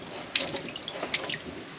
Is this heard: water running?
yes